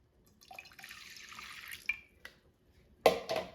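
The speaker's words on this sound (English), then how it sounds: "And now let's add 1 cup of cold water." Cold water poured from a cup into a bowl of dissolved jello mix, a soft trickling pour lasting about a second, followed by a few faint splashes and clinks nearby.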